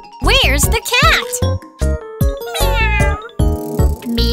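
Sung, melodic meows from a voice imitating a cat, bright and close, repeated in a playful rhythm with light jingling accompaniment.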